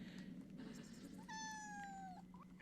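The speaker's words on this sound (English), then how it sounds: "I know, Kitty. Food." A cat meows for food in a single drawn-out, rising-then-falling meow lasting about a second, heard fairly close over a low steady background hum.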